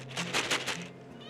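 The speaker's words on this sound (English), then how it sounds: "Meow. Is that what you say?" A pet cat named Nora gives a short, faint meow, a brief indoor vocalization with no talk over it.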